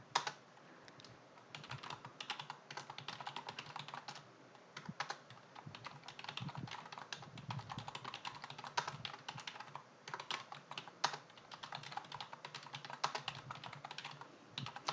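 Steady rapid typing on a computer keyboard, continuous soft clicking keystrokes up close, with brief pauses and no voices.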